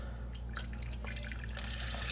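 Strained homemade cough syrup poured from one container back into another, a steady close liquid trickle with small splashes and drips running throughout, no talking.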